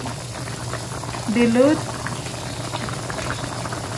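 Sweet and sour sauce thickened with almond flour simmers in a pan, a soft steady bubbling with a brief louder burst, while someone talks over it.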